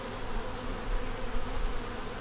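Honeybees buzz in a steady, close drone around an open hive during an inspection, a continuous hum with no voices.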